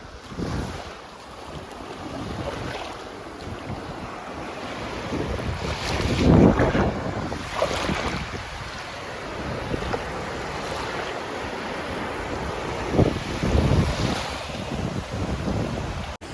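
Strong wind buffets the microphone at a beach while sea waves surge and break nearby, a steady roar with louder swells rising every few seconds and no voices.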